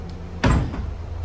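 A kitchen drawer holding silverware slides open in a bed-and-breakfast room, one quick rumbling scrape at close range that fades out over a low steady background.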